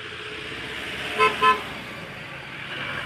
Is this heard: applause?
no